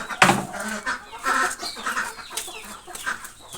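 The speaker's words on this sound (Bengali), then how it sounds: "এর ভিতরে মুরগি আছে" Chickens cluck inside a coop at a village home in the morning, with one loud, sharp call near the start followed by repeated nearby clucks and squawks.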